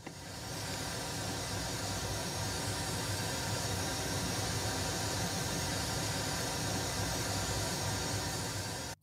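A steady, broadband hiss of pink noise fills the air without change or pause, ending abruptly.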